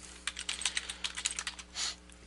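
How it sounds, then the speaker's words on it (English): Keys clatter on a computer keyboard as a database name is typed in, a quick irregular burst of light clicks, close but soft, with no speech. "let's go ahead and type that in."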